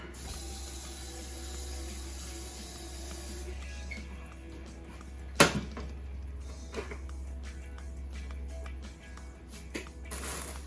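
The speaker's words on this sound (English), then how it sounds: "Fill it with some water." Water runs steadily from a kitchen tap into a pan, a continuous hissing stream lasting several seconds with a couple of light knocks partway through, heard alone without talk.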